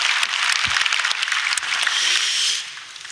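A church congregation at an Easter Sunday service claps together, a dense burst of applause lasting a few seconds before tapering off, with some voices mixed in.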